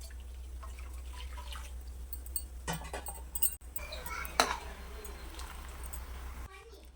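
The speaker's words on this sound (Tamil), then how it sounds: "அதே பாத்திரத்தில் நம்ம வெள்ளை தண்ணி ஊற்றிக்கலாம்" Water trickles and splashes into a cooking pot in a kitchen, with a few light clinks over a low steady hum.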